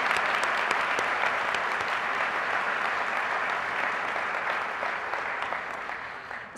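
An audience at the Kuali Days 2012 general session applauds the project teams, a full, steady round of clapping that gradually eases off toward the end.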